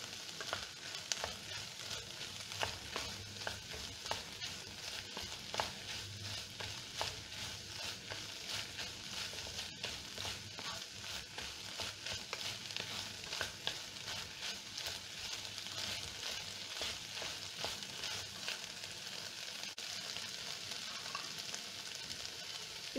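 Soy sauce being stirred into a hot frying pan for chilli beef, a soft continuous sizzle with scattered spatula scrapes and clicks, fairly quiet and close, no voices.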